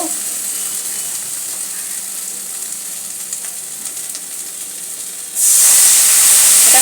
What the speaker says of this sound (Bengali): এই মশলাগুলোকে দিয়ে ভালো করে কষে নিয়ে তারপরে এতে মাছটা আমি দিয়ে দেবো এতে এক ফোঁটা জল দেব